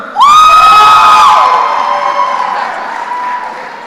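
At a College of Education spring commencement ceremony, a loud whoop rises over crowd cheering and clapping as a graduate's name is called. The whoop tapers off while the applause continues.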